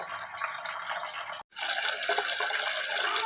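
Mixed grains for dosa are washed in water, giving a continuous close slosh and splash of water with a brief break partway through.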